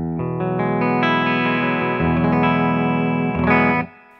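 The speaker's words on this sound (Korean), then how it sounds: "오버다를 걸고요. 이제 험버코로 한번 다시 가볼게요." HEX N400 headless electric guitar played through overdrive on its humbucker pickup, sustained distorted chords ringing loud and steady, with a brief shift midway and a final strum that cuts off near the end.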